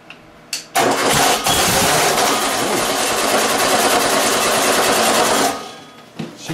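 A blown 4.3 engine with its carburetor not fully assembled cranks and catches on its first start, then runs loud and rough for about five seconds before cutting off, with a few faint knocks afterward.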